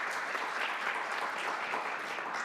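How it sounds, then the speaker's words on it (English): Audience applause for leadership academy cadets at a women's forum: steady, dense clapping from a crowd, sustained evenly throughout with no pauses. "let's give them a round of applause for being the wonderful young men that they are"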